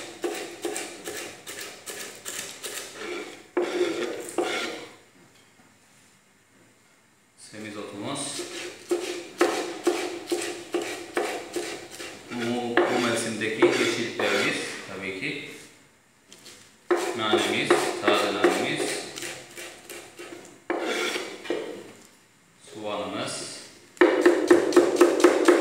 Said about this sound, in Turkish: Şimdi yeşilliklerimizi doğruyoruz şefim